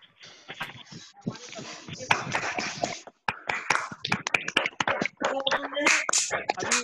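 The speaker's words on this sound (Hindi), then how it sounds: "इन लोगों के लिए ताली बजा दीजिए" Scattered clapping from participants on a video call, uneven and overlapping, with sharp taps and hand noises mixed among some voices; the claps come from several people at once rather than in unison.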